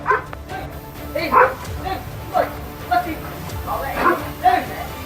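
A Doberman barks at a door on security camera footage, giving a series of sharp, spaced barks and yips that rise and fall over a busy background.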